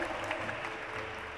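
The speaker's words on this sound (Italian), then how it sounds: "Un grande applauso a Francesca Mannino." Audience applause for the winning soprano at a sacred music competition gala concert, a short, steady, moderately distant burst of clapping with faint low hum beneath.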